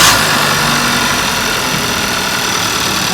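A car engine idles with its crankshaft position sensor unplugged, a loud, steady close-up rumble that holds even for about three seconds.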